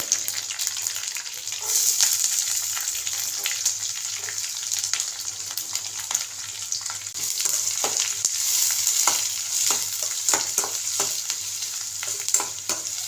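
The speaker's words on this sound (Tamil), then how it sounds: "வெங்காயம் நல்லா வதங்கட்டும்" Onions sizzle and crackle steadily in a hot pan, with frequent stirring scrapes throughout, while cooking banana flower kootu; no voices.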